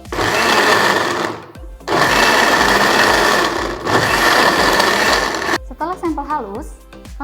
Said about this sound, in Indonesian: Setelah itu, kami haluskan sampai halus.